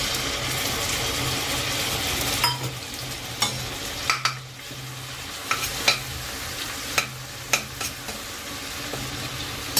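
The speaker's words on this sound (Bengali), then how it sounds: "পেঁয়াজ বাটাটা ভালোভাবে ভেজে নেব লাল লাল করে।" Ground paste of two medium onions sizzles steadily in hot oil with whole garam masala for a bottle gourd kofta curry, with a spatula scraping and tapping the pan at irregular intervals, close and alone.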